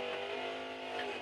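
Drag racing car at the racetrack, McCloskey's Camaro, a loud steady engine roar with a faint tire squeal edge, sustained throughout and unbroken by any talk.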